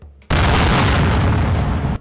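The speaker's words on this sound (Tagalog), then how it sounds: "Ang Thailand naman gumamit ng artillery o malalaking baril na ginagamit sa giyera." Artillery fire from the Thailand–Cambodia border conflict produces a single loud, close boom that roars as a dense blast for well over a second before cutting off.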